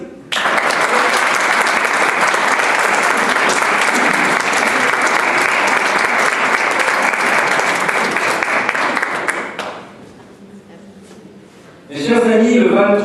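A crowd at a town public meeting claps steadily and loudly for about ten seconds, then the applause fades out and a speaker begins talking.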